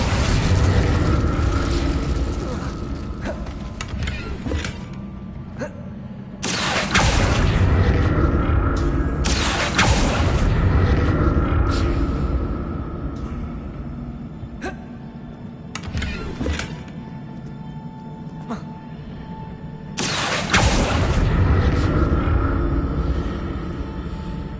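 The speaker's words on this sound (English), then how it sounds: "What did that burst of magic do?" Magic spell bursts in Hogwarts Legacy land as deep, booming blasts over a constant rumbling bed, with several heavy impacts spaced a few seconds apart.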